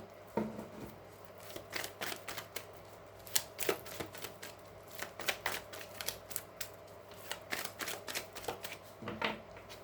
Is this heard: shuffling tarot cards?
yes